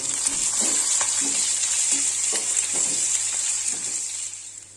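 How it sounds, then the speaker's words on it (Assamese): Onion, green chili, ginger and garlic fry in hot oil in a pan, giving a steady, loud, close sizzle. Regular stirring scrapes sound through it, and the sizzle eases slightly at the end. "পিঁয়াজ, জলকীয়া, আদা নহৰু ভাজা হৈ গ'ল।"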